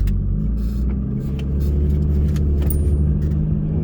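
Turbocharged Lexus IS300 driving through a neighborhood, a continuous close, low engine rumble with slight swells in level and faint rattles on top, no talk.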